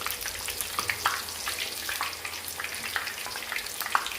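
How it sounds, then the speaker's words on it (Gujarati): Besan fafda strips frying in hot oil, a continuous bubbling sizzle with scattered sharp crackles and pops throughout, close and steady, no talking. "આની અંદર આપણે ફાફડા નાખી અને એને એકદમ ક્રિસ્પી થાય ત્યાં સુધી એને તળી લેશું"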